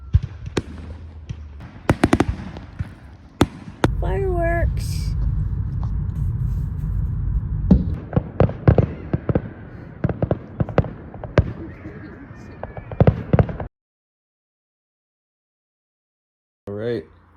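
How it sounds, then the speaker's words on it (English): Fireworks exploding at an outdoor show in Gettysburg; a string of sharp, loud bangs and crackles at irregular intervals over a steady rumble, with a brief voice mid-way, then a sudden cut to silence and a short burst near the end. "seeing fireworks"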